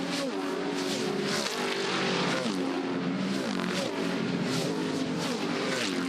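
Period touring cars race at full speed down Conrod Straight at Bathurst, engines roaring loud and continuous with repeated rising and falling revs as gears change and cars pass close by.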